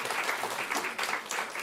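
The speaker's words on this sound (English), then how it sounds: "Let's clap for that." Audience applause at a talk on nourishing people and the planet, a steady wash of clapping with slight swells, moderately faint and continuous throughout, with no voices over it.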